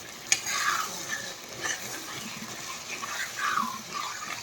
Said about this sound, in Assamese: মাংসটো আলু দি পূৰা ভাজি কৰি আছোঁ।